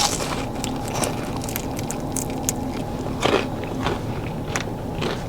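Loud, close crunching bites into tempura-battered fried food from a food truck, with repeated crisp chewing crackles running throughout and no talking.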